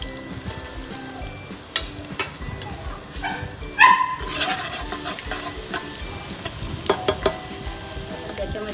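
Whole spices such as clove, cinnamon and cardamom fry with ginger garlic paste in a pan, giving a steady close sizzle with scraping stirs and a few sharper crackles and clatters.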